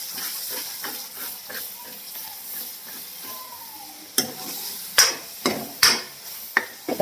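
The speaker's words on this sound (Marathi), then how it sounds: "आता फोडणी दिली हिरवी मिरची टाकून त्याला" Green chilies sizzle in hot oil in a wok as a tempering for a vegetable dish made with red flowers, with a steady frying hiss broken by sharp spatula scrapes and clacks near the end.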